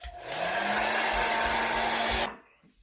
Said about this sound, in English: Blow dryer quickly.